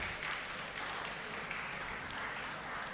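Steady applause from an audience welcoming a moderator and four presenters at a church conference in India, a continuous even patter of many hands, fairly faint and distant, with no one speaking.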